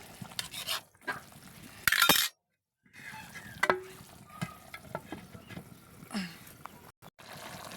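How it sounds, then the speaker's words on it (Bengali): Fish curry with yardlong beans being stirred in a pan, with soft scraping and light clinks of a spoon against the pan in short bursts, a brief sharp clatter, then a quiet pause before more gentle stirring. "এখন হালকা একটু নাড়াচাড়া দিয়ে সিদ্ধার জন্য আবার ঢেকে রাখবো"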